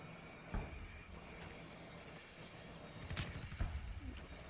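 Sharp video-game gunshots from an indoor firefight around a barricaded door, with shots fired through walls: a single crack early on, then a tighter cluster of three near the end, all over a steady low rumble with no voices.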